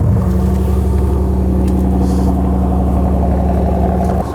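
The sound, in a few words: Lamborghini Urus SE exhaust sound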